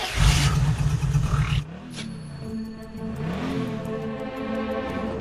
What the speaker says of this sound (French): Les bruits, c'est sa voiture qui est en train de se faire voler.